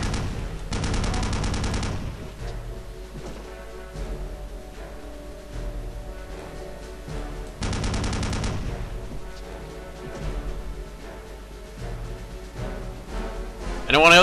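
Gunfire in Return to Castle Wolfenstein, two long bursts of rapid automatic fire with scattered single shots between them, loud and close, with a voice speaking over parts of it.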